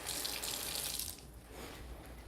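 Tap water runs beside a Breville Barista Express espresso machine, a loud hissing gush that drops off abruptly partway through and settles into a softer, steady trickle, with no one speaking.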